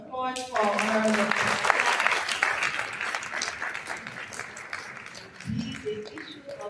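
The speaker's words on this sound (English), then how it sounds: "Another round of applause for Honorable." Applause rises from a graduation and anniversary audience, with a burst of clapping that holds steady and then fades, while a voice speaks briefly at the start and again near the end.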